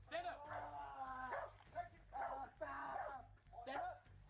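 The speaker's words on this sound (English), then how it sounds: "especially if there's a highly trained police dog looking for you" A trained police dog barks and yelps in sharp repeated bursts, mixed with loud human voices shouting commands during an apprehension.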